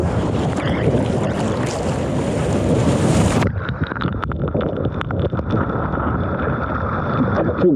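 Ocean waves and surf at a surf break, a steady broadband wash of water and wind noise that drops to a lower, choppier rush partway through, close and continuous with no talking.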